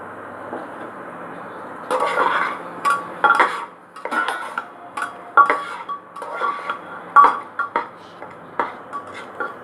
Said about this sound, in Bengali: এবার একটুখানি চালটা সামান্য একটুখানি ট্রান্সপারেন্ট হওয়ার মতন করে একটু সামান্য ভাজা ভাজা করব।